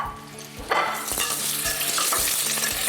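Potatoes, onions, garlic, chillies and mushrooms frying over high heat in a pan, with a steady broadband sizzle and several distinct scraping stirs of a spoon through the vegetables, close and fairly loud.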